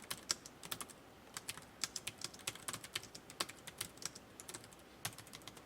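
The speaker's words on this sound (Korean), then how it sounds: "자, 이 상태로 타이핑 입력해 보겠습니다." Rapid keystrokes on a computer keyboard while answering an ITQ PowerPoint exam task, crisp clicks in uneven bursts, fairly close and alone with no talking.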